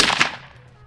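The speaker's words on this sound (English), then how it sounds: "shooting his 308" A single .308 rifle shot during a night hog hunt, one sharp crack followed by a quick decaying echo, fairly close.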